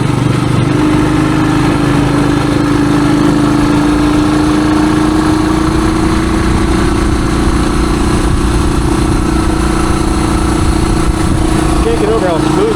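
A 1978 Suzuki DR370 motorcycle engine pulls uphill in fourth gear, a loud, close, steady drone whose pitch rises slowly throughout, with rough wind and road noise mixed in.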